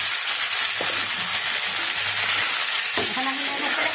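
Boiled greens go into a pan of shrimp frying in oil, and a loud continuous sizzle fills the clip, with a couple of stirring scrapes close by.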